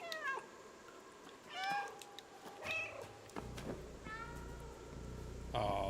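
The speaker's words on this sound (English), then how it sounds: "I've got the power to cause meows to happen. There is a meow button." Several short cat meows in the game Stray, separated by brief pauses, with a steady low rumble of game ambience underneath and a burst of noise at the end.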